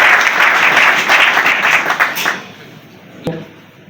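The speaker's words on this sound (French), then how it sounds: "veuillez vous tenir debout sous les applaudissements du moment" Congress audience of the Vent d'avenir political party applauding the delegations, a loud dense wash of clapping that fades out after about two seconds, followed by a single sharp knock.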